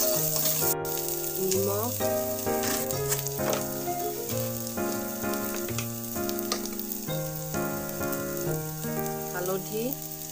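Ginger-garlic paste hisses and sizzles in a hot frying pan as a steady crackling layer under loud melodic background music, with a brief spoken word.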